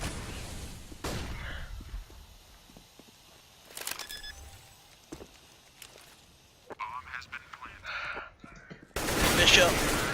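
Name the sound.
gunfire in Counter-Strike video game, Desert Eagle pistol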